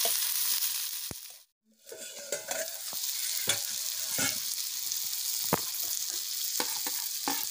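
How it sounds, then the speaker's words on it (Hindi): Fish frying in a pan with ginger and garlic nearby, a steady close sizzle broken by a brief near-silent gap and sharp scraping stirs of a utensil against the pan. "अब इसको फ्राई करना पड़ेगा"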